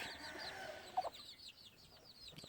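Gamefowl chickens on a farm cluck softly in repeated short calls, close and fairly quiet, with a brief louder note in the middle and light outdoor background.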